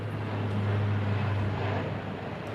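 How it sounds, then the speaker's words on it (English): Airplanes flying overhead, a steady low droning roar that holds loud and constant throughout, with no speech on top. "Planes flying above and all that."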